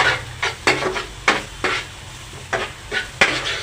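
Crushed ginger and garlic stirred into a frying pan of cauliflower and potato over low heat, a spoon scraping in repeated strokes over a soft, steady sizzle.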